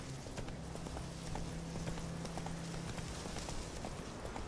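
Horse hooves clip-clopping in The Witcher 3 video game, a steady, quiet trotting rhythm set against a constant background of game ambience.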